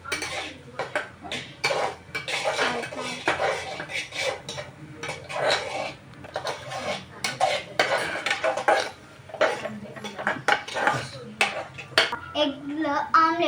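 Egg being mixed with turmeric, chilli and salt in a bowl: quick, irregular clinks and taps of a utensil against the bowl, close and fairly loud, with faint voices now and then.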